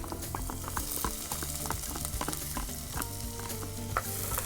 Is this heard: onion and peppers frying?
yes